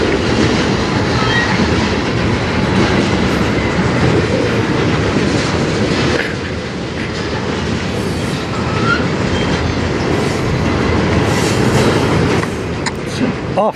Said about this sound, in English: This train always comes in as slow as it goes out. 491, that is.